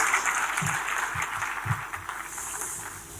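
Audience applause at an awards ceremony hall, a steady wash of clapping held at a moderate, somewhat distant level with no talk over it.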